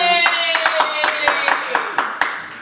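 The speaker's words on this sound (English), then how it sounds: "Clap it up." A group claps in congratulation during a podcast, about ten sharp, close claps in a loose uneven rhythm, with voices talking over them.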